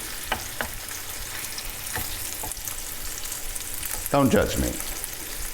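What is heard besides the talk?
chorizo browning in a frying pan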